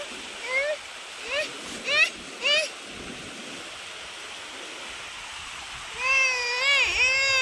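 Water washes over feet at a secluded shoreline, a steady soft rush of surf throughout while people's voices call out in short bursts over it.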